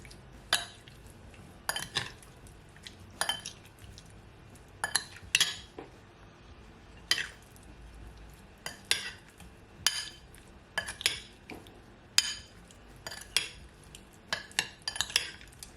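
A spoon mixes seasoning into shrimp in a bowl, making close, irregular clinks and scrapes against the dish with quiet pauses between strokes.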